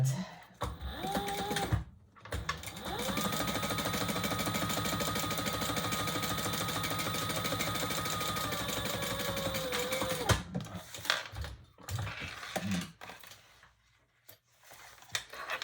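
A sewing machine bastes fabric flat in a steady, rapid stitching run of about eight seconds, close and clear, then stops and gives way to quieter handling noises.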